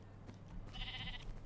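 Sheep bleating in the video game Minecraft, a single drawn-out wavering bleat lasting under a second over a steady low background hum, with no talking.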